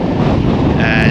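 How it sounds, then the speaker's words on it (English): Strong wind buffets the microphone on an exposed clifftop path on the Isle of Wight, a loud, continuous rushing roar with no break. "It's so windy here"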